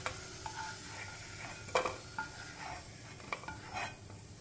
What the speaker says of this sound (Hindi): ये देखिए यहाँ पे अपने अदरक लहसुन फ्राई हो गए हैं